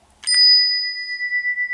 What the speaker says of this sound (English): We got an EPCO bell here.